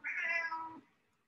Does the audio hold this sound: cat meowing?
yes